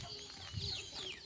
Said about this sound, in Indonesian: Di sini banyak ayam guys ya